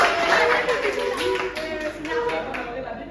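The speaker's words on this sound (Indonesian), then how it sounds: "Yang kasih tepuk tangan dulu buat temannya." Scattered classroom applause for a classmate, a brief patter of many hands clapping that stays fairly even for a few seconds before thinning out, with voices mixed in beneath it.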